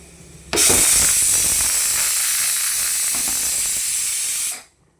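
A pressure cooker lets out a loud, steady hiss of escaping steam that starts abruptly, holds evenly for about four seconds, then cuts off, with a faint rattle underneath.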